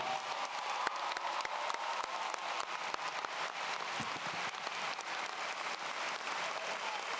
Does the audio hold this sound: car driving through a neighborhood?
no